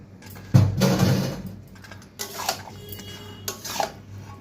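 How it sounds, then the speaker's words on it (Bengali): Boiled chickpeas tipped into a pan of chana masala with potatoes and spices, a loud clattering thump followed by a few lighter scraping knocks of utensil against the pan, no talking. "এবার আমি সেদ্ধ করে রাখা চানাগুলো দিয়ে দিচ্ছি।"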